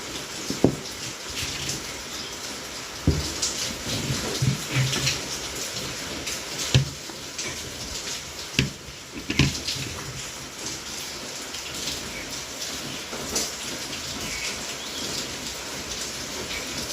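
Steady rain falls throughout, a dense broadband patter with occasional louder drops and thumps rising out of the wash, fairly close and unbroken by talk.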